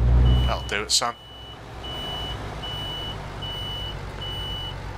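Reversing alarm on a big rig in Euro Truck Simulator 2, a thin steady beep repeating at even intervals over a low engine drone, with someone talking briefly at the start.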